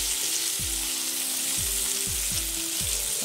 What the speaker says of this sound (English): Finish cooking the shrimp.